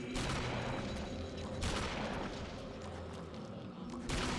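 Shotgun blasts in the video game Eternal Darkness, a few heavy booming shots spaced apart, each followed by a rumbling decay, fairly close and loud.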